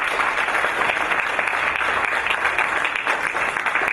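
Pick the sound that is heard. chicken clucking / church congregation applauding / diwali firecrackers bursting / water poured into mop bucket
church congregation applauding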